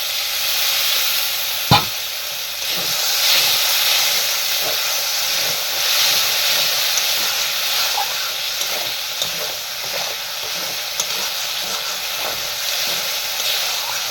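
Water splashes into a hot pan of onion-free, garlic-free vegetable curry, raising a steady loud hiss of steam and sizzle that runs throughout, with one sharp clank near the start and light stirring scrapes.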